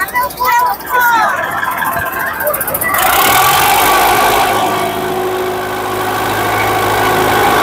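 A boat engine runs on a river with a loud, steady drone. Voices talk over it near the start before the motor settles into a continuous rumble.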